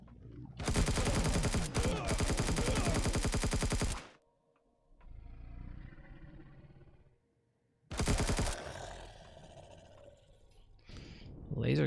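Automatic weapon fire in the Empyrion game roars in a long sustained burst, breaks into a quieter lull with softer sounds, then a second shorter burst hits, loud and close.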